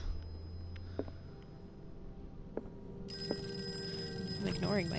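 A telephone rings faintly in a quiet room, with a few sparse tones at first and a brighter, steadier ringing tone in the second half, while a voice talks briefly over it.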